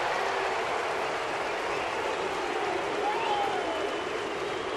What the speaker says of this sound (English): That'll wake the crowd up here.